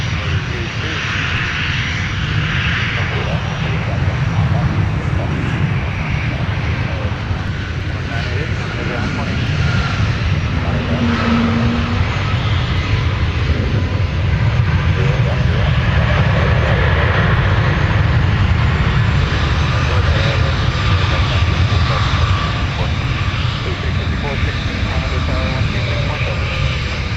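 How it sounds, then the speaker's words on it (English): A Delta Airbus A220 jet arriving from Chicago O'Hare touches down at Minneapolis–Saint Paul airport, its engines giving a constant loud roar across the whole stretch, with radio chatter from the tower beneath it. "touching down with the A220 from Chicago O'Hare, Delta 1533"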